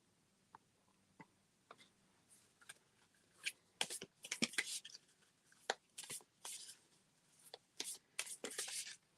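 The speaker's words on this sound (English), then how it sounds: "I could just shuffle cards too" Oracle cards being shuffled by hand in short, crisp bursts of riffling and flicking, fairly close and quiet, with pauses between the bursts.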